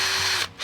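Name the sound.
drilling hole in drip irrigation line with 1/8 inch drill bit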